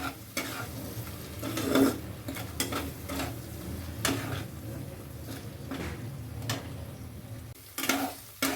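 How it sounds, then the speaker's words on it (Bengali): A ground paste of cashews, poppy seeds and melon seeds being sautéed for a paneer dish: soft frying sizzle under repeated spoon scrapes and clinks against the pan, uneven and moderately close. "বেটে রাখা কাজু পোস্ত চাল মগজ এবারও ভালো করে কষিয়ে নেব"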